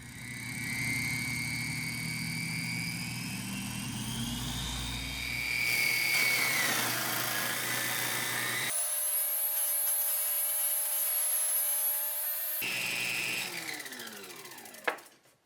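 A saw disc mounted on an Onefinity CNC cuts aluminum in a workshop, a loud rotating whir shifting in pitch with grinding rubs, then a sharp high metallic screech before winding down.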